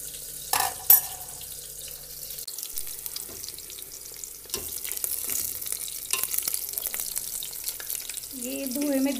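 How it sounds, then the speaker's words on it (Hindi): Small soybean chunks frying in a home kitchen pan give a crackling sizzle mixed with scattered clatters and a few sharp knocks, with a brief wavering tone near the end. "मैं इन बड़ियों को भून लूंगी।"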